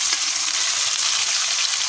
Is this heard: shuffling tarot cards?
no